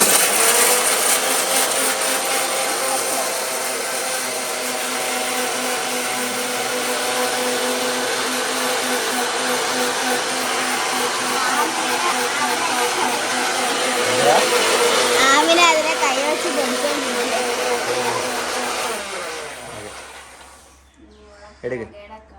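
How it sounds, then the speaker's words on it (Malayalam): An electric mixer grinder jar whirs loud and steady with a harsh motor whine as it powders dried eggshells, then spins down and stops near the end, followed by a brief clatter. "മിക്സിയുടെ ജാറ്"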